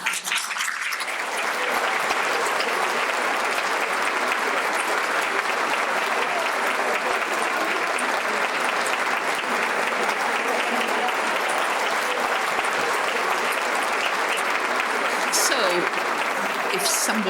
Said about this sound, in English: so that I can thank you and give you a big clap for it.